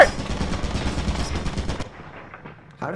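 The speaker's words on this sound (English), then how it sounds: "Turret! How did I not get hit by that?" A turret in the video game Lethal Company fires a rapid burst of automatic gunfire, dense and loud for about two seconds before fading, then a short noise returns at the end.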